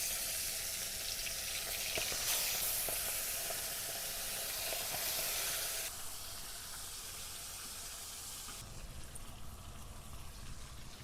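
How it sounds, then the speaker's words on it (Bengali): Salted, turmeric-rubbed pomfret fish pieces sizzling in well-heated oil, a continuous close hiss and crackle that shifts in texture partway through, with no talking. "তেলটা খুব ভালোভাবে গরম হয়ে গেছে, মাছে নুন হলুদ মাখানো হয়ে গেছে, এবার ভেজে নেবো মাছগুলো।"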